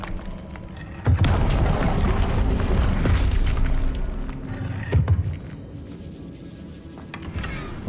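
Confringo blasting spell explosions in Hogwarts Legacy, a heavy boom followed by sustained rumbling blast noise, with a second thump a few seconds later.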